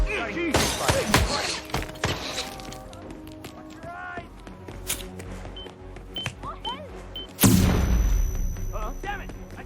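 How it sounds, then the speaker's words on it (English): Gunshots from the video game Hitman 2, sharp loud cracks scattered through a chaotic firefight with a heavy burst near the end, under frantic speech from several voices. "Gunshot."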